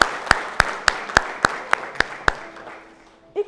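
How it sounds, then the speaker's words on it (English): A crowd applauding at a community volunteering talk on solidarity, with about eight evenly spaced, sharp claps ringing out clearly before fading into quiet room tone. "Let's clap our hands for"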